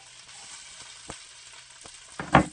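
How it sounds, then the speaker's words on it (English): Quiet sizzling and crackling of Philly cheesesteak slider ingredients frying in hot oil, with a few soft pops and a louder burst of spattering near the end. "Let those start frying up."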